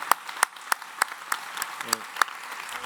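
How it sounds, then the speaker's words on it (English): Scattered, widely spaced hand claps from a small audience at a youth sports summit plenary session, about ten distinct claps, fairly faint, with a brief voice near the end. "Please give them a round of applause"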